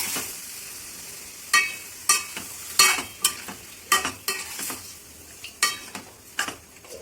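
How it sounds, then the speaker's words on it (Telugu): Washed chicken for a chicken curry being stirred and mixed in a hot pan: a steady sizzle broken by sharp, irregular scrapes and clanks of the spoon against the pan, close up with no voices. "అంతా ఇలా కలుపుకోవాలి"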